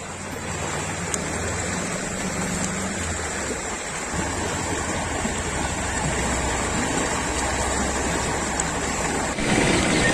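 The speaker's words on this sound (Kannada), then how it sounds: "ಗ್ರಾಮದಲ್ಲಿ ಹೊಳೆಯಂತೆ ನೀರು ಹರಿತಾ ಇದ್ದು" Floodwater from sudden heavy rain surging through village streets like a river in Koppal district, Karnataka, a loud, continuous rushing roar that stays steady throughout with no voices.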